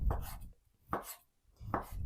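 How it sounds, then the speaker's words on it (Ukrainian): A knife cuts boiled beef tongue into smaller pieces on a board: three separate, close chopping thuds spaced evenly about a second apart, with no talk. "Нарізаю язик меншими шматочками."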